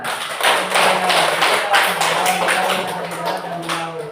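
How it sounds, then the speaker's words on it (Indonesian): Classroom clapping from students during a lesson, several loud rhythmic bursts of hand claps in quick succession, with faint voices and a tonal hum underneath. "Iya, tepuk tangan."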